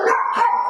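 A young dog, a one-year-old chihuahua, lets out a rapid, yappy bark up close, a short high-pitched burst filling the whole moment without any talking.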